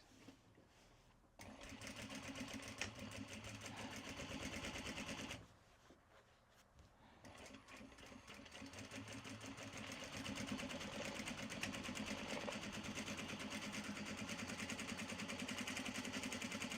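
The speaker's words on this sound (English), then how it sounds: "we stitch down all the side seams, all the side seams." A sewing machine stitches the side seams of an upcycled obi tote bag in long, steady runs. Its motor hums and whirs loudly and continuously, pausing twice briefly before resuming, with no voices.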